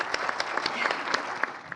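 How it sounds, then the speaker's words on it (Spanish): An audience claps to welcome a speaker at a panel, a short, moderately distant burst of scattered individual hand claps with no voices. "Pues recibamos con un aplauso al maestro Gerardo Cantú,"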